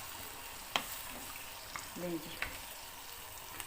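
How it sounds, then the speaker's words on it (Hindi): Cauliflower cooks in a pot with a steady soft sizzle and bubbling, broken by a few small clicks and knocks. A person speaks briefly over it. "अब गोभी जी पक रही हैं"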